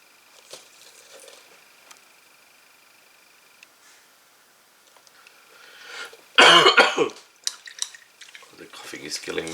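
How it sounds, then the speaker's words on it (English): A person coughing, a sudden loud burst of harsh coughs after quiet with faint dripping and small sounds, followed by a few smaller throat noises. "The coughing is killing me."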